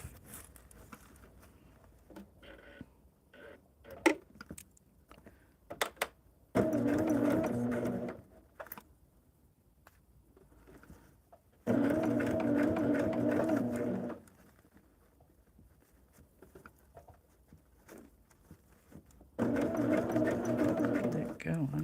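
A sewing machine stitches a double wedding ring quilt in three separate runs, each a steady close whir lasting a couple of seconds. Quiet handling noises and a voice fall between the runs.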